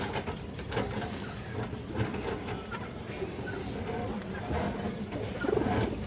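Pigeons coo in soft, repeated bursts at a farm selling coloured, high-flyer and racing birds, including a red-necked female, with someone talking throughout.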